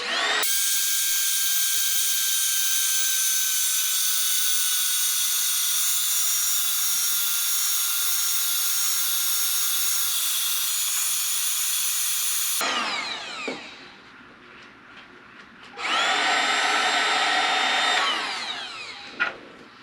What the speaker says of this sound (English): the reason I wanted to use a heat gun instead of my flamethrower